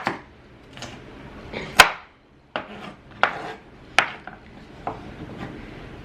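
A knife chopping carrots on a cutting board, with sharp, irregular knocks spaced out, some loud and some soft, and short quiet gaps between them.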